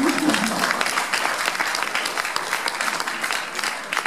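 Applause from an audience at a political party's summer university welcome session in France, a dense steady clatter of many hands filling the room for about four seconds, with a voice briefly audible at the start.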